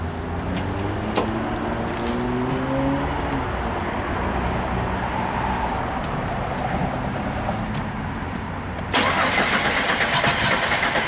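A Jeep engine with a crank-no-start fault is cranked cold, a long, steady, close churning drone. It then shifts abruptly into a brighter, louder running roar near the end, with no talk.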